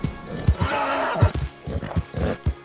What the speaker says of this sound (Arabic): وقف الحصان الثاني ما بغى يهرب